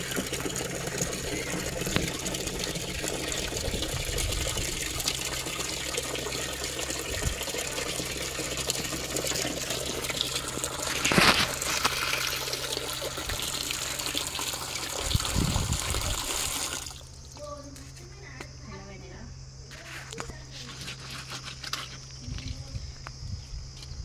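Running water pours steadily into a basin of fish pieces for about sixteen seconds, a broad rushing hiss, then cuts off, leaving a quieter room with faint clinks.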